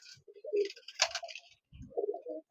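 A Giribaz pigeon, a Murshidabadi high-flying breed, gives a few low, soft coos, with a brief rustly burst between them.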